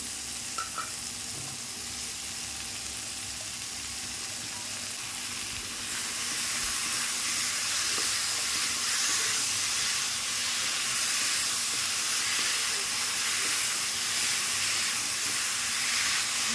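Boiled taro stolons fry with prawns and spices in a pan, giving a steady, loud sizzling hiss that swells after a few seconds and carries on unbroken, close to the ear.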